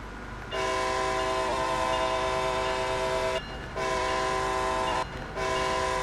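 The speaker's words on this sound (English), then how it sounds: "standing on here, on this platform, and having this train whiz by" A train races past a station platform in Train Sim World 2, its loud, sustained horn sounding in three long blasts over the rumble of the passing cars.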